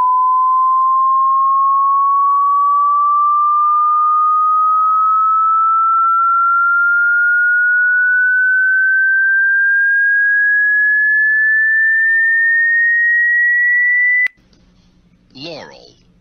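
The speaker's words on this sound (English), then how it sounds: "there's about 10 seconds of high pitched, high frequency audio" A high-pitched filtered version of the Yanny versus Laurel recording rises as one smooth steady tone for about fourteen seconds, loud and alone, then cuts to a brief burst of voice.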